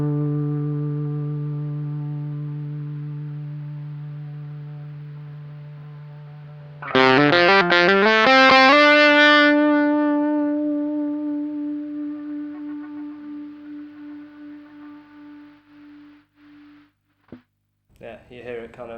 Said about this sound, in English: I'm just going to play some kind of held notes and see kind of how the gate deals with that.